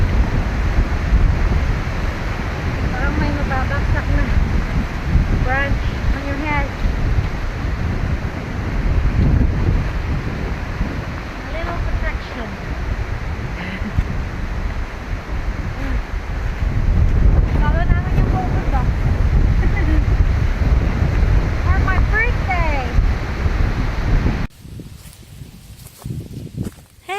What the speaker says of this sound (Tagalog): Ang lakas ng hangin. Nakakatakot.